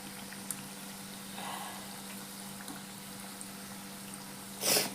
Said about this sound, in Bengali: এই যে এটা ভাজা হচ্ছে